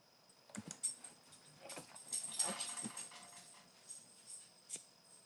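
A pet dog named Pete stirring awake indoors, giving a few soft, faint whimpers and shuffling sounds in quiet surroundings, with no talking.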